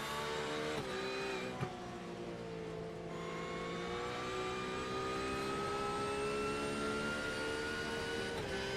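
A GT3 race car engine in a sim racing game at Spa-Francorchamps drones loud and steady, its pitch sliding gradually as it runs in another car's slipstream, with another car's engine audible alongside and no voices.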